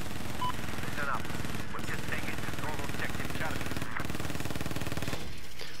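Rapid bursts of automatic gunfire from a shooter video game rattle steadily and loudly, with a voice talking over the shots.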